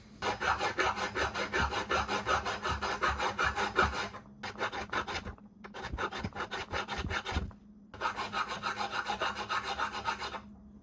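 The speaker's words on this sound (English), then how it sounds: "All right, so I got those cut in there with the file." Hand file rasping across a steel knife blank for a hunting and camp knife, close and steady, with dense rhythmic back-and-forth strokes in three bursts separated by short pauses.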